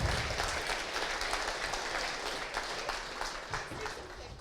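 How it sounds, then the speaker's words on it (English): Applause fills a hall at a hackathon award show, a dense, fairly distant wash of clapping that holds steady and tapers slightly as it goes on. "big round of applause"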